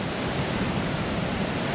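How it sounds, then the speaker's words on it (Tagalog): Strong sea waves rolling onto a littered shore at Bucana, Cebu, a steady loud roar of surf and wind with no pauses. "Ang lakas ng alon!"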